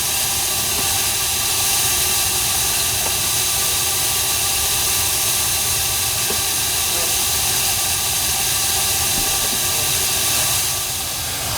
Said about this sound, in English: So we've got our main fire going here. You see the fuel going in. That's the vaporized fuel getting into the burner there.